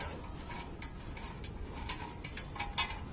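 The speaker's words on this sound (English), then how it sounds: "take the bolt off" A bolt is loosened with a ratchet, making a steady run of quick mechanical clicks under a faint hum of background noise, close and moderately loud, with a few sharper metallic ticks toward the end.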